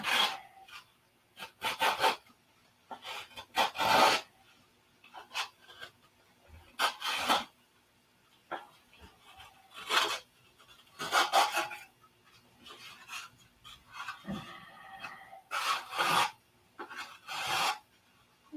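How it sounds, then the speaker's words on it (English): Repeated short bursts of rasping, scraping friction as a balsa model airplane wing is sanded, coming in uneven strokes with brief pauses between, close up and fairly quiet. "Almost ready to start sanding."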